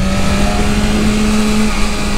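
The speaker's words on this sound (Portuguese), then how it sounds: "Mas o corte de giro dessa moto, família, não tem pra ninguém." A new faired BMW motorcycle engine, limited to 8,000 rpm, is held revving against the rev limiter, a loud, close, steady high drone with no talking.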